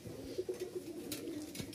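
Domestic pigeons kept for flying, cooing softly in a short series of low, repeated coos at moderate distance over faint background noise.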